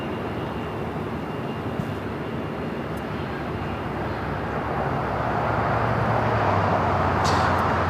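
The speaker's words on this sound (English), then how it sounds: "Our next takeoff is a flight heading to Charlotte, American Airlines Flight 2596. It's an A321neo" An American Airlines Airbus A321neo bound for Charlotte takes off at Los Angeles International Airport, its engine roar a broad, steady rush that swells louder in the final seconds as the jet climbs away.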